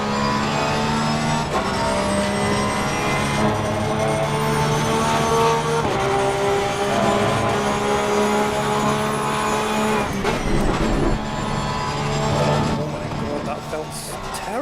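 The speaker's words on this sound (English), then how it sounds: "The engine sound is completely different, so I'm going to have to retune my ears for that" A McLaren race car engine in the racing game Assetto Corsa Competizione at Silverstone, a loud, continuous high-revving drone that rises and drops in pitch with each gear change, with someone talking over it.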